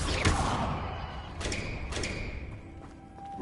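Confringo blasting spell cast in the Hogwarts video game: a soft thump opens a burst of whooshing noise, then a couple more thuddy hits and a bright tonal shimmer trail off, with no talking.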